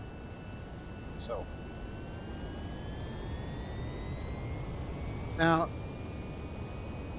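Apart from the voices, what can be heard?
VTOL aircraft engines taking off in VTOL VR video game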